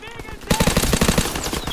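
Rapid automatic gunfire from a WW2 shooter video game in beta rattles loudly in a quick burst of shots, close and dense, with game sounds underneath.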